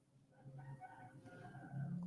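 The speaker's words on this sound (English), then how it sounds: "now they're starting to cock-a-doodle-doo." A rooster crows cock-a-doodle-doo just after rain stops, one faint, distant call in several drawn-out syllables over quiet outdoor background.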